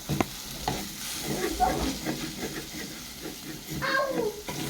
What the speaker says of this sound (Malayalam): ഇപ്പം എന്താ നമ്മളിനി നല്ലോണം മിക്സ് ചെയ്തിട്ടുണ്ട്